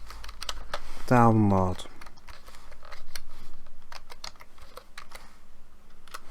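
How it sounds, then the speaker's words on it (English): Steady keystrokes on a computer keyboard, close and continuous, while someone speaks briefly near the start. "And next I will type in SQL Server"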